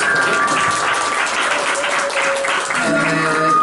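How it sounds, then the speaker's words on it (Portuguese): An audience at a live dub concert in São Paulo's Centro da Terra applauds in a dense, sustained clatter of many hands, with a few voices mixed in underneath. "Palmas para a Laís."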